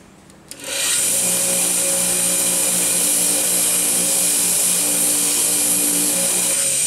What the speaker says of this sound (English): Now I'm going to continue to wire wheel inside this area.